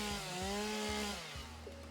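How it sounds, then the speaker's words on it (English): A chainsaw in the Satisfactory video game cuts down trees, its droning engine whine wavering in pitch with repeated low thuds as wood gives way, loud and close without any voices. "because it's a chainsaw and it takes the trees down"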